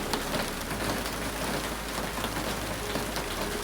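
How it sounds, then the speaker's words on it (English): Steady rain falls outside a window in Santiago, a constant dense hiss with no breaks, heard alone and fairly close. "The last time I will look out this window at the rain."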